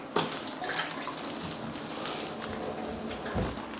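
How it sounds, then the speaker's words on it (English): Water squeezed and dripping out of soaked sausage casings by hand, a continuous wet trickling and splashing into a sink with small surges, close and fairly loud. "And then you squeeze the water out."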